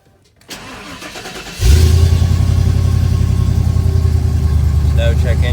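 A 1994 Ford F150 Lightning pickup cranks briefly after a key click, catches and settles into a loud, deep rumbling idle through a Flowmaster exhaust, running steadily close by.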